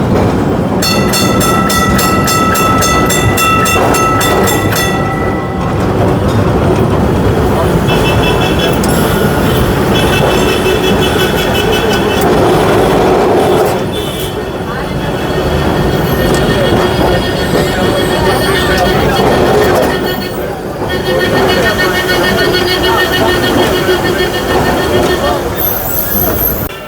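A Kolkata tram rumbling along rails for a long stretch, with metallic screeching and clattering wheels, loud and close, with voices faintly mixed in.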